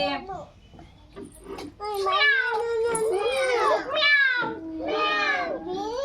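A cat meows repeatedly, several drawn-out, rising and falling cries close by, mixed with a voice talking between them.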